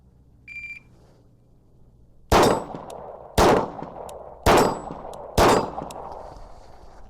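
A Glock 19 pistol fires at steel targets. After a short electronic beep, four sharp shots come about a second apart, each followed by a bright metallic clang as the round strikes steel. There is no talking.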